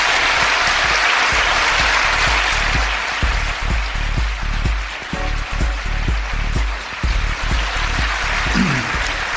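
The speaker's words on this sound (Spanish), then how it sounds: "Os pido un aplauso para él" Loud, sustained applause from a studio audience, dense and continuous for several seconds with no talk over it.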